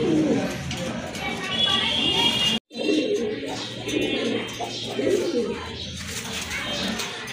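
Big-sized pigeons coo close by in rolling, repeated phrases, one short cut of silence midway, with someone talking over them.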